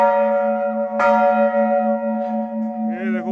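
Large bells at Chitai Golu temple in Almora ring out, one loud strike whose long metallic tone lingers and fades, with a second bell sounding near the end.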